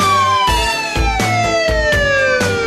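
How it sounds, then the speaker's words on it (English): A wailing siren sweeps down in pitch over a regular, pulsing electronic beat, loud and continuous, played as an opening sting for a podcast episode. "I hear those sirens, I get excited"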